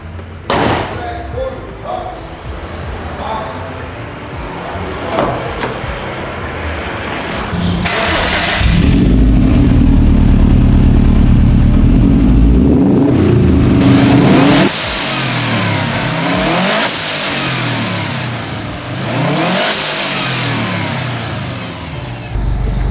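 A 2008 Subaru WRX STI rally car engine starts close by, then revs hard in repeated loud surges and dips, with brief pauses between pulls.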